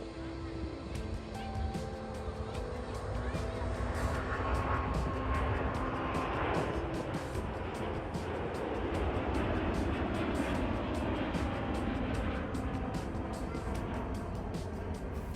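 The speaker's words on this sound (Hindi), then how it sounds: "यहाँ से हवाई जहाज़ों की रोज़ाना 600 के करीब लैंडिंग और टेक ऑफ्स देखे जा सकते हैं" A jet aircraft landing or taking off at Manchester Airport roars in the distance, its engine noise swelling and fading, with faint voices and background hum underneath.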